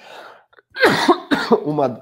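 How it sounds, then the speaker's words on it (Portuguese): A man with the flu gives a couple of rough, close coughs and throat clears mixed in with his talking, during a live Portuguese-language broadcast. "vocês me perdoem a tosse"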